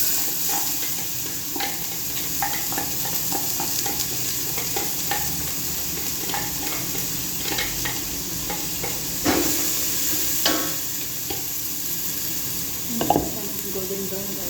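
Garlic and ginger frying in a pan, a steady sizzle with stirring clinks and scrapes throughout, a few louder knocks near the end.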